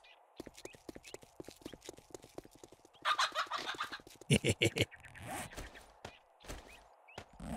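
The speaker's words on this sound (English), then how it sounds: "We got a chicken." A chicken in the survival game 7 Days to Die clucks and squawks repeatedly in a busy, close burst of game sounds, with scratching and gobble-like calls overlapping.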